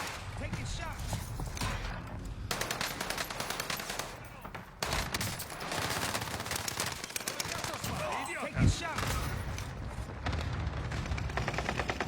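Rapid bursts of gunfire from a multiplayer shooter video game fill the clip, nearly continuous automatic fire with a short gap and one louder blast, while players talk over it.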